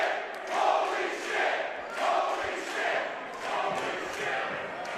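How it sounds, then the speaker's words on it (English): Wrestling crowd at an AIW show in the Asylum venue chants in steady rhythmic bursts, loud and full, with each repeated chant swelling and fading over a dense roar of the audience. "Listen to the crowd at the Asylum."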